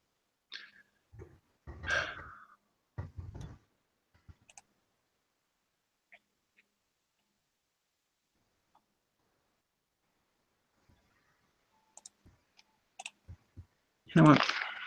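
Scattered computer mouse clicks come in short, sparse bursts, with quiet breathing and near silence between them.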